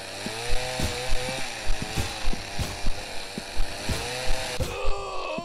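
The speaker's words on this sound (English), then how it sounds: "Mr. Chainsaw Maniac! Stop trying to kill me!" A chainsaw in the horror game Office Horror Story: Arrival of the Chainsaw Killer runs with a buzzing, wavering engine drone, punctuated by regular heavy thuds about twice a second, loud and close.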